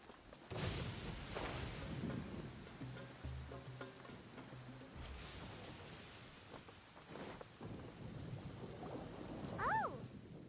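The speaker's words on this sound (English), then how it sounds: "Paimon hears thunder!" A thunderstorm in the Genshin Impact video game gives faint, low rumbles of thunder and a soft hiss of rain, with scattered brief cracks and a short rising tone near the end.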